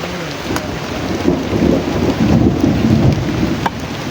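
Steady rain pours throughout, with low rumbling thunder rolling underneath and a few sharp drop hits; no voices.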